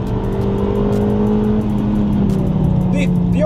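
A Toyota Altezza RS200 drives on tarmac with a steady loud engine drone and shifting tonal whine, rising slightly toward the end with a brief tire squeal, while a voice talks over it.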